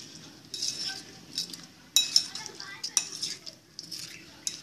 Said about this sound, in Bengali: ক্রিম দেওয়ার পর ক্রিমের সাথে সবগুলো ফলকে মিশিয়ে নিব